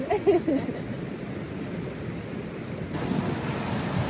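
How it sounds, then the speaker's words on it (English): A raging trout river beside a hot spring in New Mexico roars continuously, broad and close, with a brief murmur of sound near the start. "the hot spring is next to a raging river full of trout"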